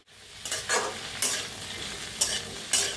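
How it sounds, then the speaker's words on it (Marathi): Okra is stir-fried in a pan, its steady frying hiss broken by a few sharp, close scrapes of a spatula tossing the pieces, with no talk. "सतत हलवत ना भेंडी भाजून घेऊया आपण चांगली अशी।"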